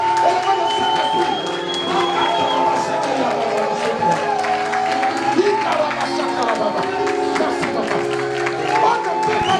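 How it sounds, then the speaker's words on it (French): Church congregation applauding and cheering for the Holy Spirit, continuous loud clapping and shouts with a preacher's voice over the top. "Acclamez plus fort pour le Saint-Esprit."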